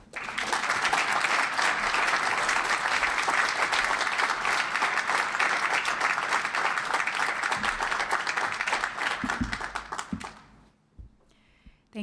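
An audience applauding as Dalia Mogahed is welcomed to the stage, dense, sustained clapping from a large crowd that holds steady for about ten seconds before fading out.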